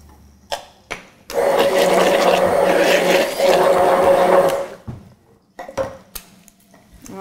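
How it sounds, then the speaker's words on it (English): An immersion blender whirs through a lemon garlic sauce in a kitchen, running loudly and continuously for about three and a half seconds, framed by a few sharp clinks and knocks of utensils before and after. "That immersion blender seems to be an incredibly nifty tool."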